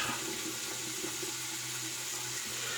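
Running water from a tap at a bathroom sink while wetting the face before shaving, a steady close hiss and splash that continues alone without pause.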